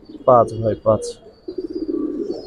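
Domestic pigeons, a pair of matching pattern, coo softly and steadily just after a man's brief spoken words.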